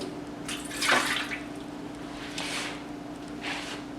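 Three quarters of a cup of water is poured for homemade pizza dough, making a soft splashing trickle in a few short bursts over low steady background hum.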